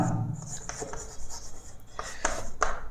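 Chalk scratching out strokes on a classroom board during a chemistry lesson, with short scraping bursts in a steady handwriting rhythm, close and clear and without talk.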